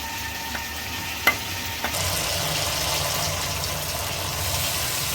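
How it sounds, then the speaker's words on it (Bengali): Water swirled with leftover mustard paste is poured into a hot pan for a Bengali prawn curry, setting off a loud, continuous sizzle that starts sharply and holds steady to the end. "জলটা ঢেলে দিলাম।"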